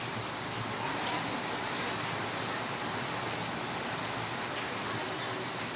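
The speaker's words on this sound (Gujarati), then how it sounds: "અત્યારે લાઈવ વરસાદ છે" Steady live rainfall pours down in an even, continuous hiss with no let-up, filling the whole stretch with dense broadband patter and no voices on top.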